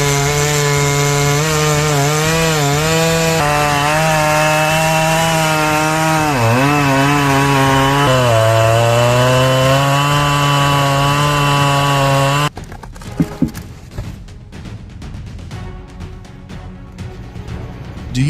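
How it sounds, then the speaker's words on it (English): A powered saw cuts through wood with a loud, steady rumbling whine that shifts in pitch for about twelve seconds, then gives way to a rougher, clattering noise of the heavy machinery working. "The rumbling sound fills the air as the blades power through the wood"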